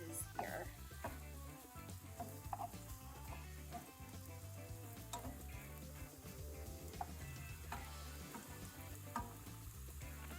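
Minced garlic sizzling in a hot pan as the base for chili, a continuous crackling fry with scattered spatula scrapes and stirring clicks, close up and fairly quiet, with no voices.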